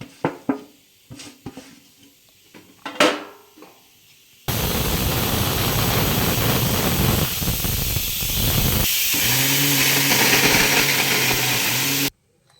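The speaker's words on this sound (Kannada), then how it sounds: "ನೀರು ಹಾಕ್ಬಿಟ್ಟು ಗ್ರೈಂಡ್ ಮಾಡಬೇಕು." A mixer grinder runs steadily, grinding peanut powder, coconut, cardamom and jaggery with water into a fine paste, a loud continuous whirring roar lasting several seconds after a few quieter kitchen knocks.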